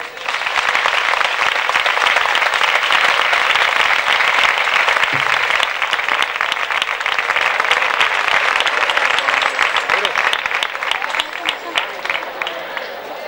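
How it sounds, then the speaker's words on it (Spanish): Loud, sustained crowd applause at a town fair proclamation ceremony, dense clapping filling the whole stretch as an audience welcomes the maestro, thinning slightly toward the end. "vamos a darle un fuerte aplauso para recibir al maestro"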